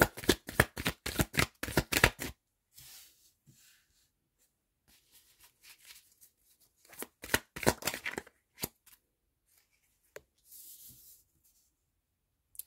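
Tarot cards shuffled and dealt for a Sagittarius love reading, with quick bursts of riffling at the start, scattered soft slides and taps in between, and another brisk shuffle midway, close and alone.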